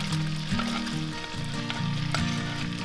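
Shrimp go back into a pan of sauce with crushed red pepper just after the heat is switched off, setting off a steady, close sizzle over a low hum with no talking.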